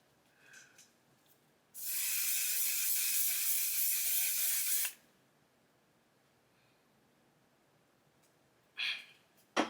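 Makeup setting spray mists out in one long hissing burst of about three seconds, close to the face, then a brief second spritz follows after a quiet pause.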